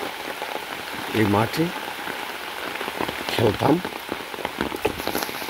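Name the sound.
rain falling on a village field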